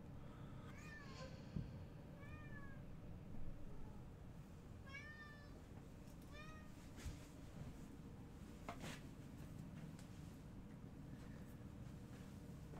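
A pet cat meows with a toy held in its mouth, giving several short, muffled, chirping cries spaced a few seconds apart over quiet room noise.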